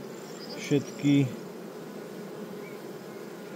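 Honey bees from a swarmed, queenless colony hum in a steady, low drone throughout, with a brief spoken word near the start.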